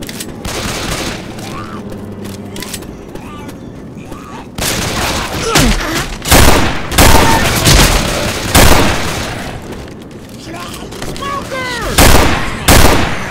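Rapid gunfire in Left 4 Dead 2 crackles through a busy scene, with bursts of shots and loud bangs coming in clusters, layered over game noise and excited voices talking during the fight.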